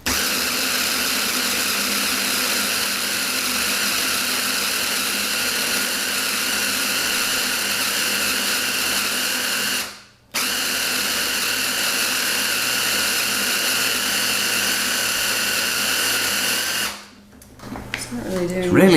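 A kitchen blender grinds a tart base for a key lime and white chocolate tart in a loud, shrill, steady whir, stopping briefly twice and ending with a rattling spin-down.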